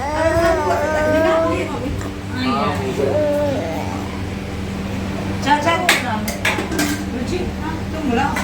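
Steel plates and dishes clink and rattle as a vegetarian thali with paneer curry is laid out for a family meal, scattered sharp clatters toward the end while several people talk over a steady background hum.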